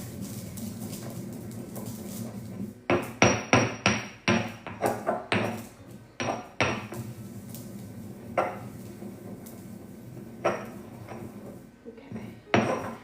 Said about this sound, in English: I'm gonna grind these as finely as I can first.